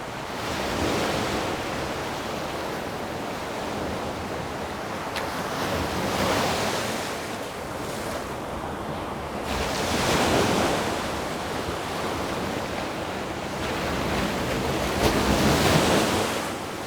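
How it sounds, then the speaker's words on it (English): Ocean surf rolls in and breaks in steady swells, a broad continuous wash of water with wind noise, no voices. "just check out these waves for a second without us talking"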